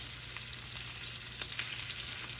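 Baby red potatoes sizzle in a skillet, a steady, fairly quiet frying hiss with small crackles and pops, and no talking.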